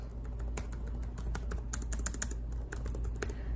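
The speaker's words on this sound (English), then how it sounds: "It's pretty clicky, but it's a usual keyboard, all the same buttons." Fingers typing steadily on the keyboard of a Lenovo Flex 5 convertible laptop with an 11th-gen Intel Core i5, a close, rapid patter of crisp clicky keystrokes over a low steady hum, no talking.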